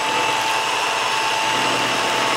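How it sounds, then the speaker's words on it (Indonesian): Steady, continuous whir of an electric hand mixer running at low speed, beating seven egg whites with a tablespoon of lemon juice for a chiffon cake, close and even, with no talking. "Klop deze met een mixer op lage snelheid totdat het schuimt"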